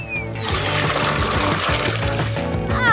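Water pours steadily into a glass during a food-eating challenge, a continuous trickling splash over background music, fairly loud and close.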